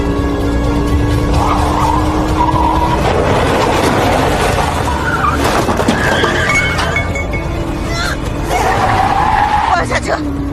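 Car tires squeal and skid during a chase, a loud screeching over continuous engine and road noise, with people talking and shouting over the scene.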